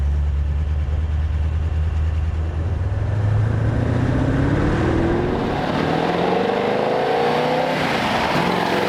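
A 1932 Ford Roadster with an aluminum flywheel idles low, then accelerates with a rising engine note that grows louder and rougher near the end, the carburetor giving occasional pops, no one speaking.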